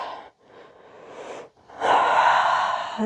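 Deep breaths during a yoga flow: a slow inhale, a brief pause, then a fuller, louder exhale, close and clear with no talk.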